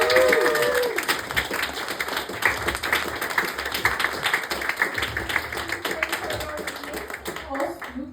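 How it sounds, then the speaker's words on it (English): Dense, loud audience applause fills a comedy venue as a comedian walks on stage, steady clapping with crowd noise and voices mixed in, fading slightly toward the end. "Ladies and gentlemen, please, round of applause for the one and only"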